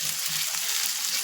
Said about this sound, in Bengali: পেঁয়াজগুলো দিয়ে আমি বেশি ভাজবো না, একদম হালকা ভাজবো